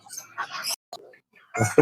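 Chickens and roosters at a busy duck and chicken market in Fatullah, Narayanganj, give short scattered clucks with gaps between them, ending in a louder, harsher crowing burst.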